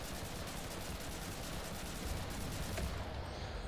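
Continuous rifle gunfire in the World War II shooter game Enlisted, set in Tunisia, forms a dense, steady roar of overlapping shots and battle noise with no pauses.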